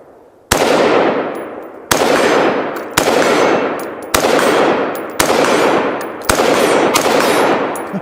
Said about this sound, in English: I'm just going to shoot it out a little bit and show it to you again.